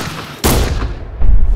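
Gunshots from a martial arts action movie trailer, a sharp loud blast followed by a rumbling tail and another heavy hit, close and punchy.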